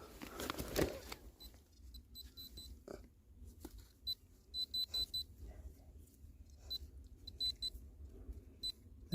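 A metal detector gives repeated high electronic beeps in short clusters, fairly faint, over low outdoor rumble and rustling in a village garden.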